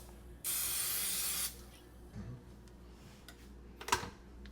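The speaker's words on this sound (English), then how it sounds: "Now you need to put oil in the waffle machine." Cooking oil is sprayed into a waffle machine in a single hissing burst of about a second. After it come quiet clicks and light handling noises.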